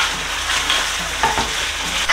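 Pork ribs frying in a wok of sweet and sour sauce, a steady close sizzle with a few stirring scrapes and clinks over a low background hum, with no voices.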